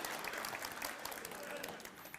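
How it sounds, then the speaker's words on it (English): Applause at Game Track 2023, a steady wash of many hands clapping across the whole stretch, fairly distant and even in level with no break. "let's give ourselves an applause in real good American style"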